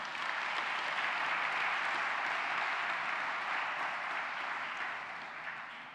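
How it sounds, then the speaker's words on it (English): A large audience at a young achievers awards event delivers sustained applause, a dense, even wash of clapping heard from a distance that holds steady before easing slightly toward the end. "I think we should give them a round of applause."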